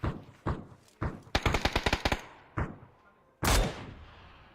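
Bursts of video game gunfire, including a rapid string of automatic shots, with separate single shots before and after and a loud final blast.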